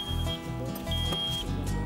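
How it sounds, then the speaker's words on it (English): Seatbelt reminder chime in the cab of a Volvo electric excavator, two sustained high electronic beeps separated by a short gap, clear over a low humming background, with no talk. "It's beeping at me because it wants me to put my seatbelt on."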